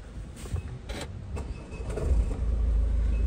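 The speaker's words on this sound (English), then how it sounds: "Just going to start the engine." A Ford Focus Titanium X with 77,169 miles is started: a few faint clicks and whirs, then the engine catches and settles into a low, steady idle close by.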